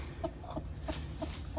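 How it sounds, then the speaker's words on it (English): Soft, low clucks from a broody Australorp hen in a backyard free-range flock, repeating roughly every third of a second, close by and quiet against a steady background hum. "you're a big chicken. You are a big chicken."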